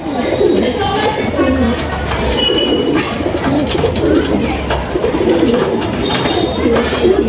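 Madras pigeons coo steadily and close by, their low, soft, rolling calls overlapping in a continuous loop, with faint chatter and small background sounds mixed in.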